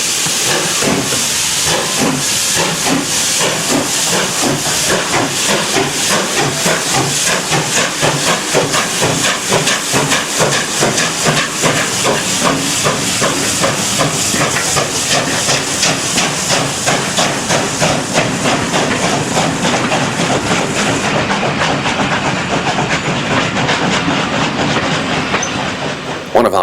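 A pair of 0-6-0 pannier tank steam locomotives on the West Somerset Railway work hard in March, a loud, rapid rhythmic chuffing with continuous steam hiss and clanking throughout, fading slightly at the end.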